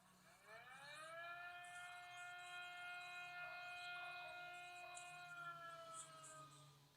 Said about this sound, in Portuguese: o professor tem que tocar a sirene